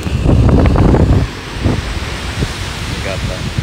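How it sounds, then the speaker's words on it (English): Strong wind roars across a microphone at a shoreline where people are fishing, loudest for the first second, with waves washing in beneath a steady broadband rush. "waves coming up, but the wind is still pretty dramatic here."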